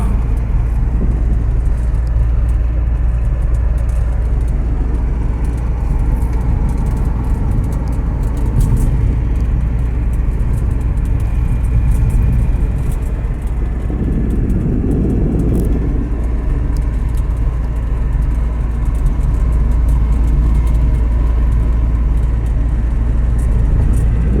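Volvo 240 with an E85 ethanol conversion, heard from inside the cabin while driving: a steady, loud engine drone and road rumble fill the whole stretch without any talk.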